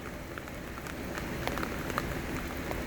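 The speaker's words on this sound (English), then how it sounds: "It's not raining quite as hard as it was earlier, but it's coming down pretty good." A Washington rain squall drums steadily on a car, heard from inside as a close, constant patter with sharper drops standing out, no voices.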